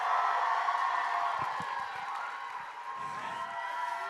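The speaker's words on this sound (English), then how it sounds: "You guys clap for them. Give them some love as they come out." A theater audience at a convention panel for the musical Six claps and cheers as cast members walk out, a steady wash of crowd noise with scattered whoops, fairly loud and continuous throughout.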